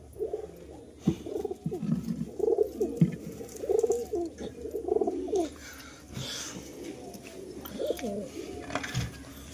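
Several pigeons coo nearby in soft, throaty bursts, overlapping at times, with quiet gaps and faint background rustling.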